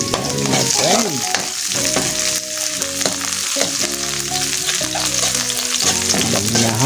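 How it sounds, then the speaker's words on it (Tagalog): Mixed vegetables with garlic and turmeric are stir-fried in a pan, with a steady loud sizzle and repeated scraping and clanking of a utensil stirring throughout. "Ayan ang pagluto ng sari-saring gulay."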